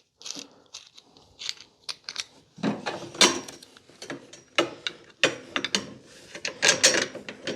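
Fastener being unscrewed on the frame of a Snow Joe 24V-X2-SB22 electric snow blower, a run of close ratcheting clicks and metallic turning bursts in uneven spurts, fairly quiet with no talking.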